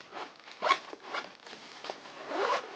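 A zipper on a Pgytech OneMo camera backpack being pulled open along a compartment, giving a few close, uneven rasping bursts over nearly three seconds.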